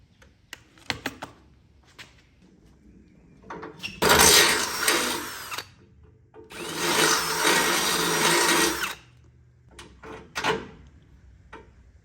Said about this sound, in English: This bit probably is not going to go through this weld as easy as it did as that plate over there.